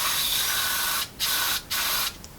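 A degreaser aerosol spray hisses in three bursts into a carburettor port of a 1974 Leyland P76 V8, the first long and the next two shorter, separated by brief pauses, close and fairly loud.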